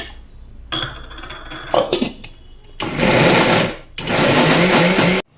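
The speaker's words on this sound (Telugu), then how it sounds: "ఇప్పుడు ఈ విధంగా మిక్సీ పట్టుకున్నాక కొంచెం బరగ్గా ఉన్నప్పుడు ఇలాచీలు, ఈ బెల్లం కూడా ఇందులోనే వేసుకుని మిక్సీ పట్టుకోవాలి" A kitchen mixer grinder works batter with cardamom and jaggery. It runs in two loud, close whirring bursts, each about a second long, after some brief clinks and handling sounds.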